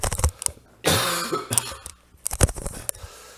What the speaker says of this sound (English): Hold on, got a cough, sorry.